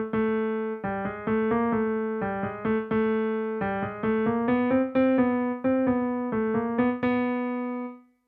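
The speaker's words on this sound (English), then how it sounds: "Here it is played on the piano." Britten's trombone melody from the Four Sea Interludes is played on a piano as a single clear line of steady, evenly grouped notes, close and solo, with the last note ringing out before it fades.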